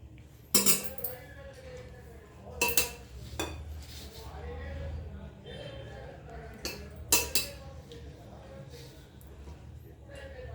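A spoon clinks and scrapes against a pot while scooping hot boiled pigeon peas, several sharp metallic knocks spaced through the scene over a low steady hum, with a voice speaking in between.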